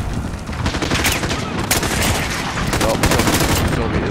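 Heavy PKM machine-gun fire in a military video game, loud sustained bursts crackling close by in rapid rhythm with sharp individual shots cutting through.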